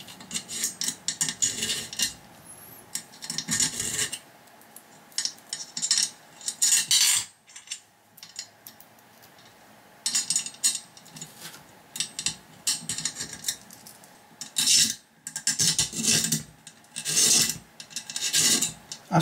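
Metal nuts being slid and pushed into an aluminium extrusion profile while building a Voron 2.4 3D printer, heard as repeated bursts of scraping, rasping metal-on-metal rubbing separated by short pauses, close up with no talking.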